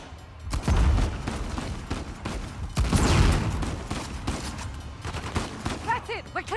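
Bursts of heavy gunfire aimed at an approaching plane in Uncharted: The Lost Legacy, loud overlapping shots and booms in two strong surges, with game effects and voices shouting over the action.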